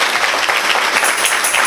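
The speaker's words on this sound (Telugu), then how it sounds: "గట్టిగా ఏమనంత వినపడితే చప్పట్లు కొట్టండి." Salvation Army congregation in Tenali clapping together, a dense, even burst of applause, close and loud, lasting under two seconds with no break.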